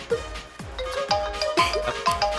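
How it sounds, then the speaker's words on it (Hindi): A phone's ringtone plays a close, clear melodic pattern of repeated bright electronic tones in a quick rhythm, with no voices over it. "हिंदुस्तान से फोन बा। तो उठाई उठाई।"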